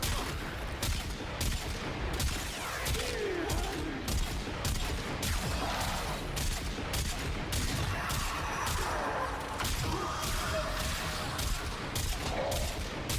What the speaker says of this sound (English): Oh yeah, this feels more like a shotgun.